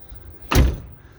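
The door of a Pössl 2 Win S Plus campervan built on a Fiat Ducato closes by itself with one heavy, close thud and a short rattling tail, against a quiet background.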